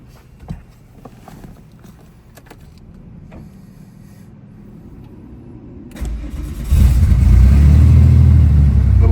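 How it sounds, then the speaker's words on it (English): Porsche 964 Safari cold start: faint clicks and a soft whir, then the starter cranks and the engine catches, settling into a loud, steady high idle rumble. "I want to do a cold start to begin with, so let's do that."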